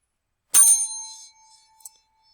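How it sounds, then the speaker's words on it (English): A single bright bell strikes once and rings out in a clear, fading tone, with a faint second tap shortly after, heard alone with no talk. "The bell invites me."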